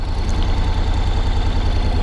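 A black Honda NC750X motorcycle with a six-speed DCT gearbox idles with a low, steady, close rumble and even pulsing throughout the short stretch, with no other sound on top.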